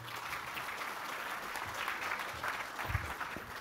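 A crowd applauds the participants at the end of a live-streamed season finale, a soft, even wash of many hands clapping that continues without a break, somewhat distant and quiet.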